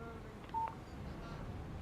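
Phone tones in the Alan Wake video game: a couple of brief keypad-style beeps close together near the start, fairly faint over a low background hum, with no talking.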